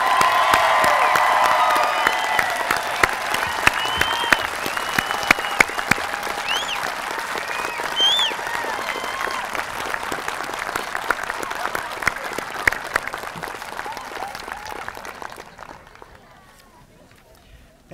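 Sustained, loud applause from a high school commencement crowd for the graduating class of 2022, with scattered cheers and shouts, holding steady for most of the clip before fading away near the end.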